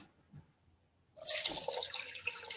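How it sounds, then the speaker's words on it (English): Oil for cold process soap pours into a pot, a sudden continuous liquid splash and trickle starting after a quiet moment and running steadily close by, no talking. "I'm going to pour this in that pot first."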